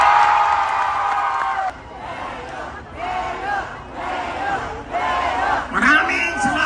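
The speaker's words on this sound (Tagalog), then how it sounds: "Pwede ba makarinig ng malakas na palakpakan na may kasamang sigawan?" A festival crowd at the Calambagong Buhayani Music Festival roars with loud shouts and cheers in repeated surging bursts, separated by brief dips, with voices carrying over the noise.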